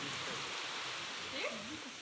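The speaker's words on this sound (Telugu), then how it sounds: "గాలి వానతో వాతావరణం అంతా కూల్గా ఉందండి" Steady rain falls with wind on an evening rainy day, a soft continuous hiss that stays even throughout, with a faint voice briefly rising under it.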